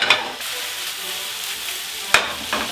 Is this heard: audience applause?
no